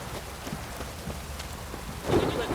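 Steady rain in the video game The Witcher 3 patters down with a soft low rumble beneath it, swelling slightly louder toward the end.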